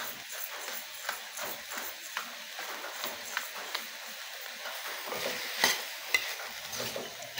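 A spoon stirs sauteed chayote with shrimp in a pan, giving soft irregular scrapes and light taps over a quiet sizzle, close and fairly faint.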